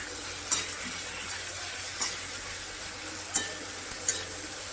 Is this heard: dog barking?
no